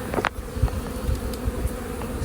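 Honeybees buzz inside a Mini-Plus hive in a low steady drone close by, with a brief sharper knock near the start.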